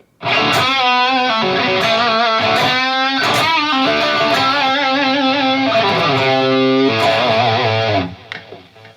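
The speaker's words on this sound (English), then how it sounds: "and then the lead, or high gain." Electric guitar (Enya Inspire smart guitar) on its high-gain lead channel plays a sustained lead line with bending, singing notes and heavy saturation, loud throughout before stopping abruptly near the end.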